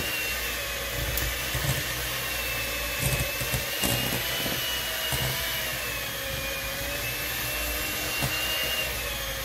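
Electric hand mixer beating butter, sugar and egg for a Dobosh cake batter, a steady close whirring drone with small rattling bumps and no talk.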